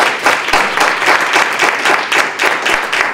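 Audience applause at a board of education meeting: a dense, steady round of clapping from a seated crowd indoors, loud and sustained for several seconds with no talk over it.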